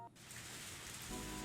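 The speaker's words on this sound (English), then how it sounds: "Doesn't take long for the rain to really start pouring down." Rain pours steadily as a visual novel sound effect, a dense, even hiss of falling water that thickens slightly toward the end.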